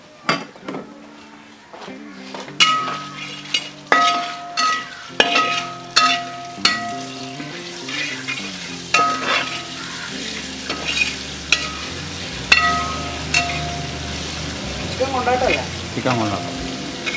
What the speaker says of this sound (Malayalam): ഉണക്കമുളക് ഇതിങ്ങനെ വറുക്ക ചെയ്യാം.